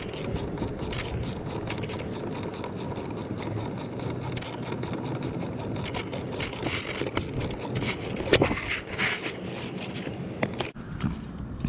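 Steady mechanical ratcheting clicks ring out as a top screw is tightened on an ASV C5 lever being installed on a Gen 2 Hayabusa motorcycle, continuous and close throughout.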